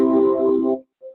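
A major triad chord sounds as a single sustained, clear tone cluster for under a second before fading, followed by a brief faint note.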